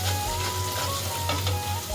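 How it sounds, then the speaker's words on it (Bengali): A spice mixture fries in a pan for a fish curry, giving a steady, close sizzle with a constant low hum beneath it. "মশলাটা ভালো করে কষাই নিলাম।"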